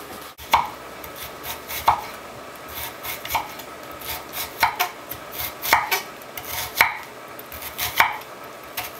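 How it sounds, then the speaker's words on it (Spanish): A knife chops onion on a board in slow, uneven, crisp strikes, with about eight clear hits spaced roughly a second apart and a soft rubbing between them. "Voy a cortar un poco de cebolla"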